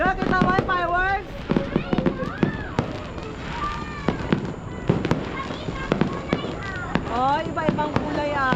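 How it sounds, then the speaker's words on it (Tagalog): Fireworks burst repeatedly in a rapid, irregular series of sharp cracks and pops with whistling rises, loud and close, while people talk and exclaim over them. "kita mo yung fireworks?"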